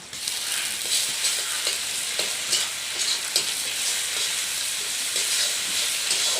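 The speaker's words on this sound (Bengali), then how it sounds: "জিরেটা অল্প নাড়াচাড়া করে নেব।" Steady sizzling of cumin seeds frying in hot oil with onions, with scattered crackles and occasional scraping stir strokes, close and continuous throughout.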